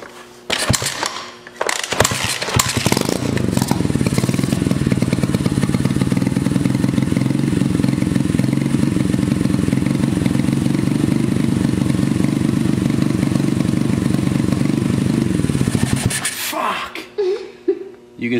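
A 200cc pit bike engine fires up after a few clattering start attempts, then runs loud and steady up close for about fifteen seconds before cutting off, with a few rattles trailing after.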